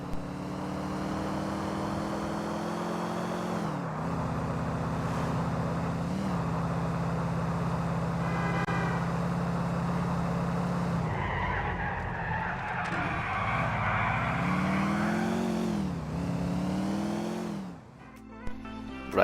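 Car engines revving and shifting gears continuously, the pitch rising and falling through several accelerations, loud and close with a whining tone.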